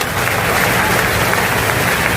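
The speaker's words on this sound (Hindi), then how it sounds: "ताली बजा करके" An audience at a live religious gathering, a Divya Darbar event in New Zealand, claps loudly and continuously, with dense applause close by.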